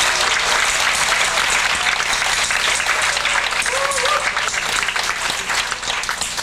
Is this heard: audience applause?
yes